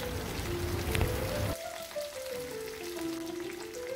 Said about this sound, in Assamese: মিঠাতেলখিনি যেতিয়া গৰম হৈছে, যিখিনি ভাতকেৰেলা কাটি ৰাখিছিলোঁ সেয়া দি দিলোঁ।